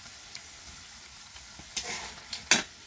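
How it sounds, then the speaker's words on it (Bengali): Masala spices are sautéed and stirred in a pan: a soft background sizzle broken by a few sharp scrapes and clatters of a spoon against the pan, the loudest near the end. "আমরা কিন্তু আসলে এখানে মশলা কষানো হচ্ছে"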